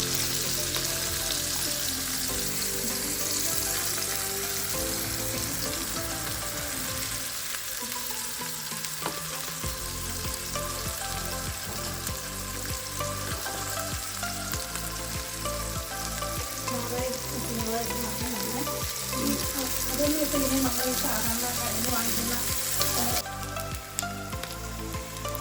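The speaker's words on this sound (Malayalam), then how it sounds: "നമ്മുടെ തെരണ്ടി മീൻ ഏകദേശം വറുത്ത് സെറ്റായി വന്നിട്ടുണ്ട്." Dried stingray fish fries in a pan with a continuous crackling sizzle that runs throughout, partly under a melodic background track, with no speech.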